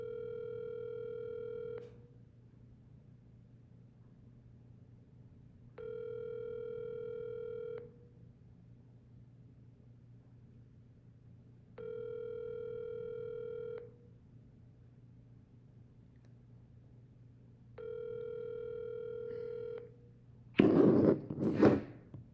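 A telephone line tone pulses four times in steady two-second bursts with pauses between them while a call is placed, followed by a brief burst of rustling noise at the end.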